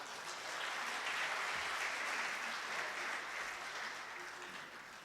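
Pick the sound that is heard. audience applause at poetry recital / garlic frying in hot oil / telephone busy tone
audience applause at poetry recital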